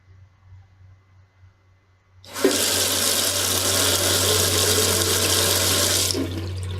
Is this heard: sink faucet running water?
yes